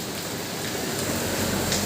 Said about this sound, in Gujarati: તમે જુઓ વરસાદ તો જો કેટલો ફાસ્ટ વરસાદ આવે છે